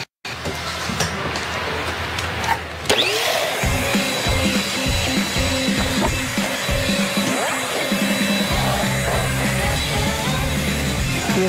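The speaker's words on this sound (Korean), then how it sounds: "엄마 청소기 돌릴 거야." Household vacuum cleaner in an apartment, switching on after a moment and then running with a steady loud whooshing roar, with bumps and knocks as it moves.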